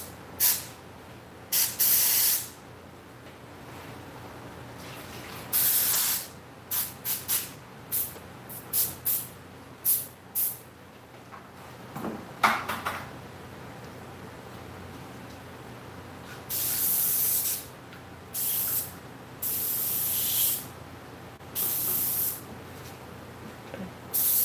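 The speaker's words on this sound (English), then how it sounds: "getting close to time I have to break down and really clean this airbrush up" An airbrush sprays paint in repeated short hissing bursts of varying length, some a fraction of a second and others lasting a couple of seconds, over a quiet background with no talking.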